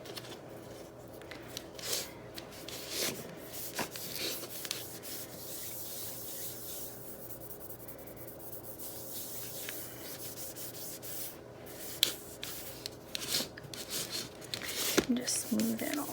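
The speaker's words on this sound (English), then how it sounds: "Pull the fondant out with your hand and guide it down." A hand smooths and pulls fondant down over a cheeseburger-shaped cake, making soft, continuous rubbing and brushing sounds up close, with a few sharper taps and a faint murmur of voice in the background.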